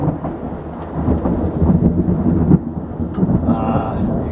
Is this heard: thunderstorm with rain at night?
yes